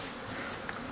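Swarming honeybees at a hive entrance make a dense, steady buzzing hum that fills the moment, close and unbroken, with no voices.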